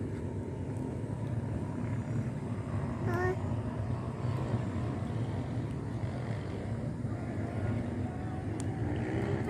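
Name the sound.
trail motorbike engine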